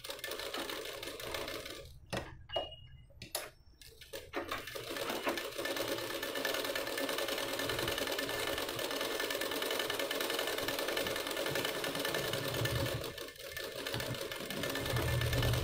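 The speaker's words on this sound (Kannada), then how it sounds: "ಈ ಥರ ನೀಟಾಗಿ ಸ್ಟಿಚ್ ಮಾಡ್ಕೊಂಬಿಡಿ ಫುಲ್ಲು." A sewing machine stitches a sleeve onto a ready-made dress, running in a steady fast mechanical whir with brief pauses and clicks at the start, then continuing close and unbroken to the end.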